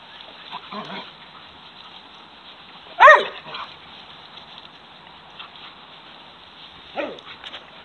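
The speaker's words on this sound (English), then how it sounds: "The puppies playing and exercising." Hog-dog puppies yip and bark in short bursts while playing and exercising, with one loud bark near the middle and fainter yelps before and after, set against quiet background noise.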